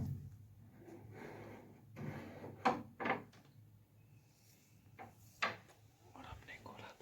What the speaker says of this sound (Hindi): और हमने खोला दरवाजा।